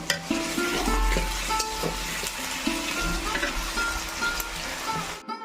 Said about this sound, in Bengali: তেল গরম হয়ে গেছে, আমি আলুগুলো দিয়ে প্রথমে ভেজে নিব।